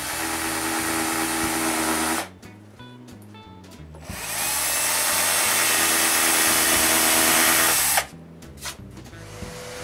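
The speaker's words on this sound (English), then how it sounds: "With those marks, I drill the pilot holes." A power drill bores screw pilot holes into the wooden top of a nine-drawer dresser, two long close whirring runs broken by a short pause of quieter clatter and knocks.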